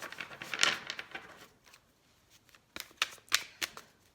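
A deck of cards being shuffled, with several short, crisp bursts of riffling near the start and again toward the end, separated by a quieter gap, close and moderately loud.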